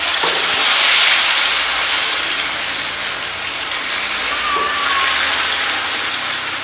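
A whole fish fries in hot oil on a gas stove during Odia home cooking, giving a steady, loud broadband sizzle that holds for the whole stretch with no talk.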